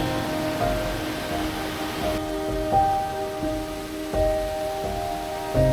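Ramboda waterfall in Nuwara Eliya rushing as a loud, continuous broadband roar of falling water, steady throughout with no voices.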